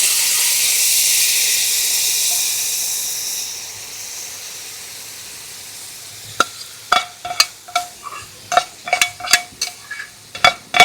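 Pork and koorka cooking with ghee and water in a pan give off a loud, steady sizzling hiss that slowly fades, followed by a run of sharp, rhythmic clacks and scrapes as the mixture is stirred.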